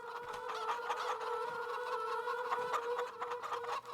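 Chickens clucking continuously in roosting houses with an egg conveyor belt in the Farming Simulator 25 video game, a dense close chorus of overlapping hen calls over a steady tonal hum.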